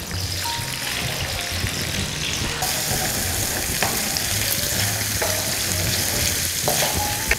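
Garlic cloves and parsley sprigs bubbling in heated olive oil, giving a dense, continuous sizzle at a steady loudness with occasional soft clicks, no talking.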